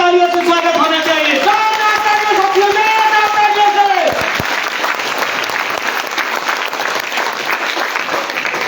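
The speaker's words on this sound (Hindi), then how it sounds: "जोरदार तालियों से स्वागत होना चाहिए।" Loud crowd applause greeting a cabinet minister at a Nishad Party political gathering, with music and cheering over the clapping at first, then sustained dense clapping continuing alone.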